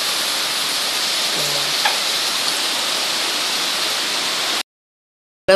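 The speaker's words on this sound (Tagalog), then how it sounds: "Pero yung sa labas, biglang umulan." Steady rain pours down as a dense, even hiss, with a couple of faint knocks partway through, then the sound cuts off abruptly.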